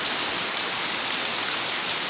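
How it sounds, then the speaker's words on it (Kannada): Heavy rain driven by strong wind pours down steadily, a loud dense hiss filling the whole stretch with no pauses and no voices. "ಗಾಳಿ ಮಳೆ ಬರ್ತಾ ಉಂಟು ಫುಲ್"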